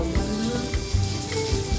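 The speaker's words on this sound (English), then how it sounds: "listen to that sizzle" Prosciutto sizzles steadily in a smoking-hot pan, giving a close, crackling frying hiss with small pops and no talking.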